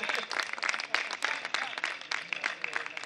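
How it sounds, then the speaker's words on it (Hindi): An audience at a Hindi poetry recital (kavi sammelan) breaks into brisk clapping that carries on through the whole moment, dense and fairly close, with voices mixed into the applause. "एक बार तालियां"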